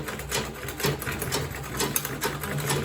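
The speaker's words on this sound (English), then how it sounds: "I'm going to sew like half an inch from this point to this point." Sewing machine running steadily as it stitches the bottom seam of a quilted tote bag, a continuous close whirring hum with a rapid needle rhythm and no talk over it.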